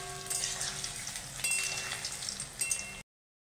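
Small ball-shaped pakoras deep frying in hot oil over high heat, a steady soft sizzle and crackle with a few louder pops, close but quiet, then cutting off abruptly.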